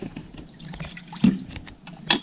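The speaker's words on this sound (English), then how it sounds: "Just gonna add a little bit of water" Water poured into a pressure cooker tray, a short splashy trickle with a couple of sharper splashes, close and fairly quiet.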